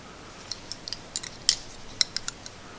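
Scissors snip braided fishing line near a knot, a quick series of about eight crisp, close metallic clicks spread over a few seconds in a quiet room.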